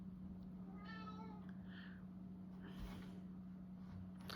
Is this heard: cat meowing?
yes